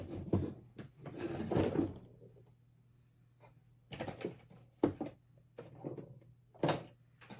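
A drawer is pulled open and pushed shut several times during a search through makeup, giving close sliding rumbles and knocks in irregular bursts with quiet gaps between.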